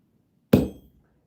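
A single sharp, loud metallic strike as a sledgehammer drives a stamp into copper, ringing briefly and decaying within half a second, alone against near silence.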